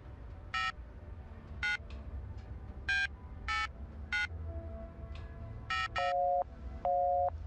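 Phone keypad dialing tones in the video game The Initiate 2, a series of short separate key beeps at an uneven pace, then two longer, lower tones near the end, fairly clear over quiet background noise.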